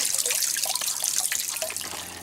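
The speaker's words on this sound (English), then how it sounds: "So I'll give it a good flushing, make sure there's nothing left in there." Water gushes steadily out of the drain of a Suburban SW6DE RV hot water heater tank as it is flushed of sediment, a loud continuous splashing rush with small drips and gurgles on top.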